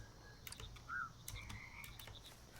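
Frogs croaking in a pond in Mudborne, faint game croaks with one brief louder croak near the middle, alongside sparse clicks and soft chimes.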